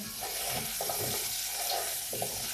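Fried young potatoes with dill being stirred in a frying pan, soft repeated scraping strokes over a steady quiet sizzle, close by with no talking.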